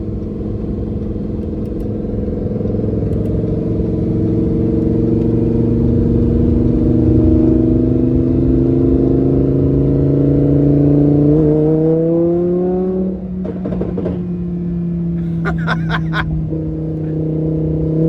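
Lamborghini Huracan LP610-4 from 2015 with 15K miles accelerating in sport mode, a loud close engine note rising steadily in pitch, briefly dropping at a gear change, then climbing again with a few sharp mechanical blips.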